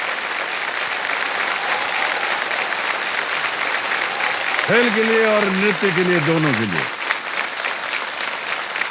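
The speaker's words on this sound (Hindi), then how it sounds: "और जोरदार तालियां बज जाए इनके" KBC studio audience applauding a contestant on the game show, sustained loud clapping throughout, with someone speaking over it in the middle.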